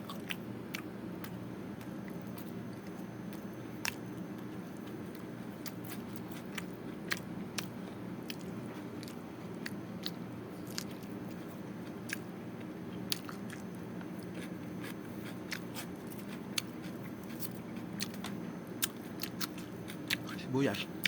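Crisp, repeated bites and chewing of young coconut meat eaten for breakfast, heard up close in a steady rhythm of crunches, with occasional talking over the chewing.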